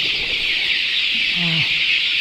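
A single short chicken call rises over a steady high hiss in a cold pre-dawn coop of native country chickens with brooding chicks. The call is brief and moderately close.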